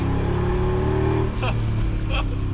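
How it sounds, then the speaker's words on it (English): A Mercedes G55 AMG's V8 with side-pipe exhaust idles with a deep, rumbling, steady low drone, its note shifting slightly partway through, with brief voice-like sounds over it. "It's that side pipe exhaust. It's just an extra snarl."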